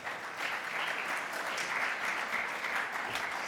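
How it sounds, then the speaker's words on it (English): An audience at a ministerial education conference session claps steadily, a dense, even patter of applause with no talking over it. "Please clap."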